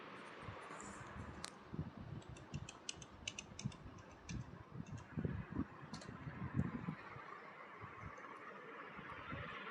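Keys tap in short irregular bursts on a computer keyboard as a Wi-Fi password is entered, close and fairly quiet over faint room hiss, with a few sharper clicks mixed in.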